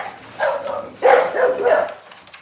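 An exotic bully stud dog, father of a litter of puppies, lets out two short bursts of barking and yipping close by, with no talk over it.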